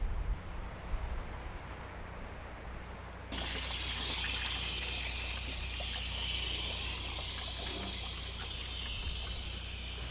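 Water pours steadily onto freshly seeded microgreen rows in soil-filled furrows, with a soft rushing flow that grows louder and fuller partway through and continues alone.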